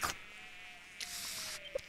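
A thin, high buzz drifts close by and fades, like a fly hovering near the ear in the game Smeshariki, with a couple of soft knocks.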